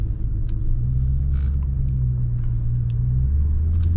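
Widebody Dodge Charger Scat Pack with a mid-muffler delete, its exhaust a loud, steady deep rumble heard from inside the car at cruising speed, with a few faint clicks and no voices.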